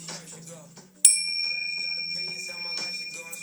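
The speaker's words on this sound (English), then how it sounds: "We're gonna cling some bells." Bells rung once with a sharp, loud strike that rings on with long sustained tones, over a bed of background voices and room murmur.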